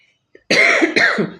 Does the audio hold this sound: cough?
yes